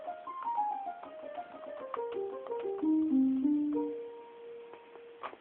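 A circuit-bent Casio SA-1 keyboard plays a muffled, dull piano tone with its high end cut by a tone control, a descending run of notes stepping down and then holding a low note, followed by a brief higher note at the end.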